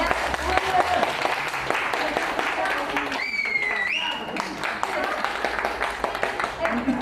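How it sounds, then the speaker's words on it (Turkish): An audience applauds at a Ceragem thermal massage bed event, dense sustained clapping filling the room, with voices and a short whistle-like tone rising over it partway through. "Büyük bir alkışla yerine."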